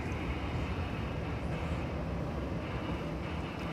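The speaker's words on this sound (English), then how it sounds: "that American Airlines A319 going to Lubbock, Texas" An American Airlines A319 airliner at an airport, a steady broadband engine roar rumbling continuously at moderate distance, with no talking heard.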